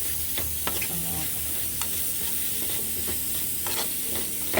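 Onions sautéing in a little oil over a gas flame sizzle steadily, with occasional stirring scrapes, fairly quiet and close, no talking.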